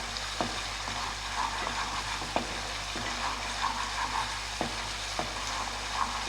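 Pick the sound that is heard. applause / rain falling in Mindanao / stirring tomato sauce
stirring tomato sauce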